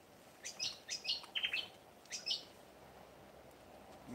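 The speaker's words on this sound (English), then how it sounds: "Hear the beautiful birds and the sound of the wind." Small birds chirp outdoors in a few faint, short bursts over a soft background of wind hiss.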